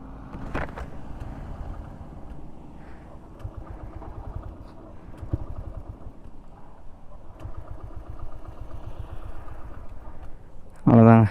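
A TVS Raider 125 motorcycle that has run out of petrol is cranked repeatedly but fails to start, giving several bursts of rhythmic low chugging separated by pauses and ending in a short, louder burst.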